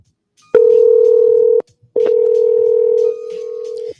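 A steady telephone tone sounds for about a second, stops briefly, then returns and continues with a slight change in level, loud and close.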